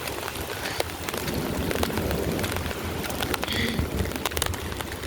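Heavy night rain flooding city streets: a dense, continuous hiss of downpour with sharp patters and splashes, and faint scattered background noises mixed in.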